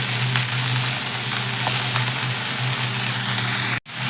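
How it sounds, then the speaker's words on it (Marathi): Chopped spinach hitting a hot pan with garlic, chilli and dal, giving a loud, dense, continuous sizzle that runs steadily close up before cutting out abruptly near the end. "आता आपण हा चिरून घेतलेला पालक आहे तो घालून घ्यायचा आहे"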